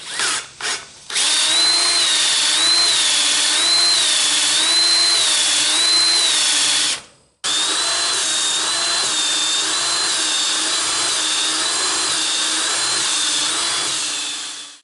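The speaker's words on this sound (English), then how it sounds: "just put the drill on the stem" A power drill spins a small-block Chevy valve stem while the valves are lapped with grinding compound and oil, a loud steady whine that wavers in pitch, cuts off briefly, then resumes for a long stretch.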